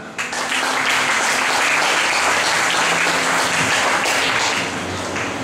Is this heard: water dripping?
no